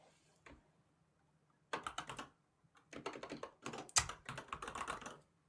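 Quiet computer keyboard typing during a live stream, clustered bursts of soft key clicks after a near-silent start, separated by brief pauses.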